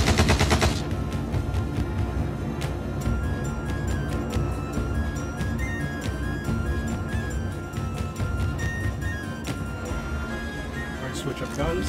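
Dense, loud gunfire rattles almost without pause in the Star Citizen space game, rapid automatic shots layered over game music and effects.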